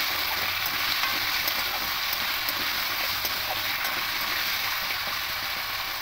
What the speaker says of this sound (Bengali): এইভাবে উল্টে পাল্টে আলুগুলোকে একটু ভালো করে ভেজে নেব।